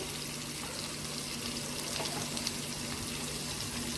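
Onions and green chilies frying in a pan give off a soft, steady sizzle at low level, continuous and even throughout with no speech.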